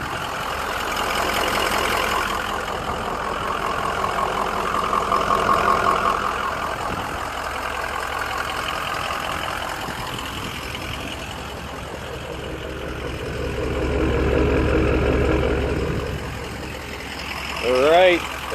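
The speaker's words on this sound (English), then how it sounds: "I gotta give you a walk around to hear this thing" The 2004 Ford F250's 6.0L Powerstroke diesel idles nearby with a low, steady rumble while someone talks over it and walks around the truck.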